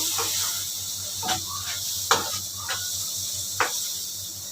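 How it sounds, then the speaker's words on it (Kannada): Chopped tomatoes fry in a pan with a steady, bright sizzling hiss, broken by a few soft scrapes and clicks of stirring. "ಟೊಮೆಟೊ ಈಗ ಚೆನ್ನಾಗಿ ಸಾಫ್ಟಾಗಿ ಫ್ರೈ ಆಗಿದೆ"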